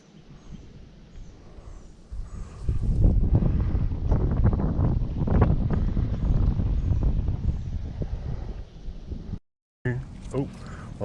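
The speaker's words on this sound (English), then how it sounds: "Oh, that wind's pushing me right up into the brush." Strong wind buffets the microphone outdoors at a fishing spot, a steady roaring gust that rises after a couple of seconds and holds, with a person talking over it.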